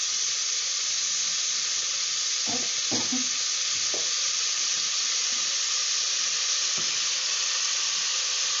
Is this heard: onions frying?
yes